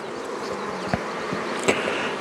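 Honey bees buzzing at an open hive during an inspection with sealed brood and queen cells, a steady close drone with a few louder individual bees passing by, no voices.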